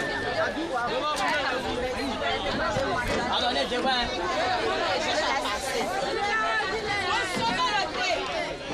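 Dense crowd chatter fills a busy Gouraud market in Yopougon, many overlapping voices forming a steady, close hubbub throughout with no pauses.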